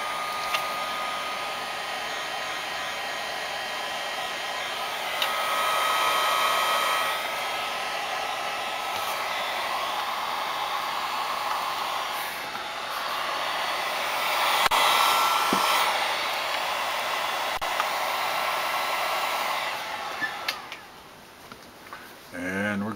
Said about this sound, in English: slide our shrink wrap down over our joints and fire up the heat gun